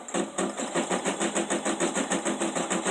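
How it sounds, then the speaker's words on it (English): An embroidery machine stitches a tack-down stitch on an in-the-hoop Easter table runner, a steady rapid mechanical chatter of regular needle strokes, close and moderately loud throughout with no talking. "it's going to do the tack down stitch"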